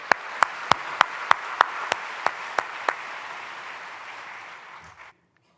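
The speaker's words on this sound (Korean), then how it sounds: "박수를 크게 환영하며 모시겠습니다." An audience at a prayer meeting for peaceful reunification applauds to welcome a former Minister of Unification, a steady wash of clapping with a few sharp, close claps on top that stops abruptly.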